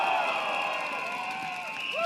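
A crowd at an outdoor political rally in Tampines cheers and shouts continuously, a dense wash of voices with a few high whoops.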